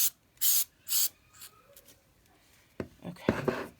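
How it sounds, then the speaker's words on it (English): Aerosol spray can spraying adhesive onto a Dollar Tree craft project: two or three short, close hissing bursts at the start, followed by scattered handling and rubbing noises and faint tapping. "this is just going to spray right on."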